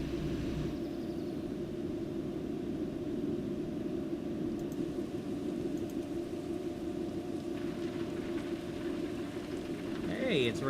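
Rain falls steadily in The Sims 4 video game, a continuous soft hiss and patter throughout, with brief faint sounds near the end.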